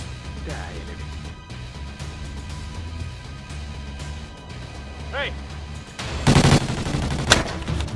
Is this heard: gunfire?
yes